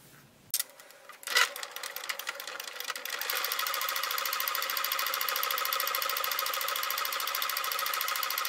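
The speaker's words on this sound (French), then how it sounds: "Et là, on va faire une couture ici, ici et là." A sewing machine stitches a fabric card holder: a couple of clicks and a short start, then a steady, fast, even mechanical whirring of rapid stitching that runs on continuously, close and moderately loud.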